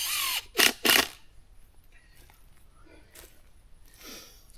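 A nail gun fastens a board at a chicken coop, firing two sharp, loud bursts in quick succession after a brief mechanical whir, followed by quiet outdoor ambience.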